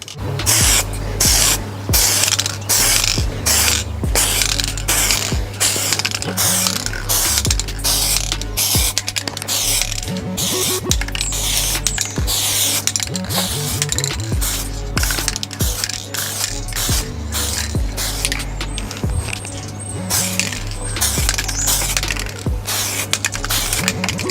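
Aerosol tint spray hisses onto the rear light lenses of a Vauxhall Corsa D in repeated short bursts, a dense rhythmic run of near, loud sprays with clicks between them and no talking.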